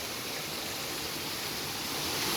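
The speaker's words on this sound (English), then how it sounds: "Rushing water." Water rushes at the El Kabayo waterfalls in the Philippines, a steady, close, broadband roar of falling water with no voices and a slight swell toward the end.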